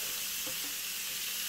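Bacon strips hiss and sizzle in a frying pan, a soft continuous close crackle heard alone.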